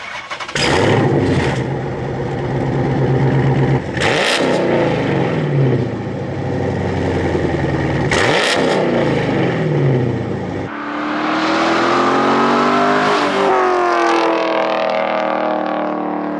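A high-mileage Chrysler 300 SRT cranks and fires up, then settles into a deep exhaust rumble; it is restarted a few times before revving higher near the end.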